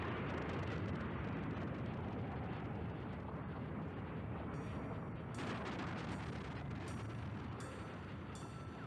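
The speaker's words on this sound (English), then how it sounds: "Shockingly small explosion by comparison." A loud, sustained cartoon explosion rumble from the 1974 anime Space Battleship Yamato roars continuously, dense and booming, with crackling debris noise layered on top.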